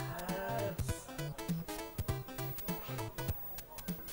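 Cattle mooing inside a video game, a series of low bellowing moos repeating in rhythmic bursts over game music, fairly quiet throughout with no talk.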